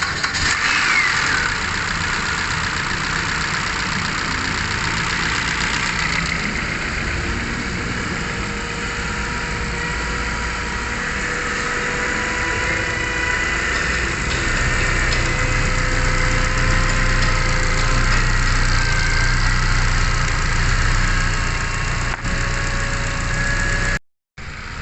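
A Kia Picanto engine turns over and settles into a steady idle, a loud continuous hum with a faint knocking texture running for over twenty seconds before cutting off abruptly.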